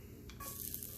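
Diced half onion hitting about a teaspoon of bacon grease on a Camp Chef Explorer griddle, a close sizzle that swells partway through with stirring scrapes.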